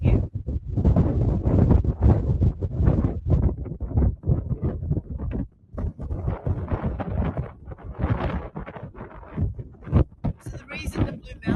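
Strong wind buffets the microphone at Cahills Lookout in the Blue Mountains, a steady roaring rumble that runs almost throughout, with a voice talking over it.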